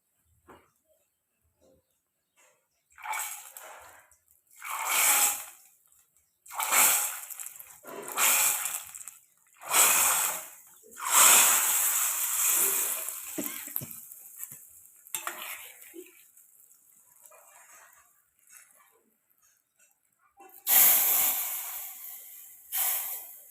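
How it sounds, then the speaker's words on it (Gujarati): Hot vaghar tempering of curry leaves, mustard seeds and whole spices is poured into a dish, producing loud bursts of hissing sizzle in several waves, mixed with metal utensil clinks, after a quiet start. "આપણે આમાં વઘાર નાખી દઈએ"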